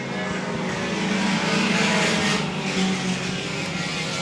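Thunderstock race cars roar around Evans Mills Raceway Park in a Sport Compact Thunderstock feature, a loud sustained engine drone that swells and fades as cars pass.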